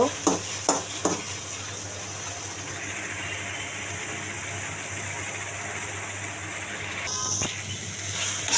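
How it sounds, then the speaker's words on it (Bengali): Salted taro pieces are stirred and fried in a pan, with a few sharp spatula knocks at the start and then a soft, continuous sizzle and scraping close by. "কচুটা আমি নেড়ে চেড়ে ভালো করে ভাজা করব।"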